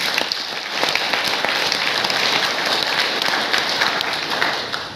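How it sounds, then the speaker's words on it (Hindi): Loud, sustained applause from a seminar audience, many hands clapping in a dense, even roar that holds steady and tapers slightly at the end. "तो उनके लिए एक बार जोरदार तालियां बजा दो"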